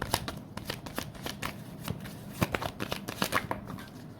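Tarot cards being shuffled by hand, a steady series of crisp riffling flicks and soft slaps close up, repeating at an uneven rhythm with no voice over them.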